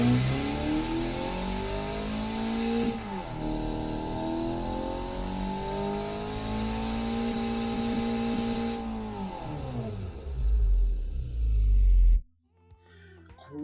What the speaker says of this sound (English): It is a 4-litre V8, pretty much 2 of the 4 cylinders we have glued together